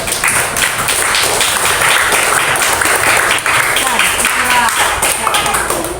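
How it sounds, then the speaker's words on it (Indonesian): Audience applause in a teacher-training class session, a dense steady patter of many hands clapping throughout at close range, with some voices mixed in underneath. "Beri tepuk tangan untuk kita semua."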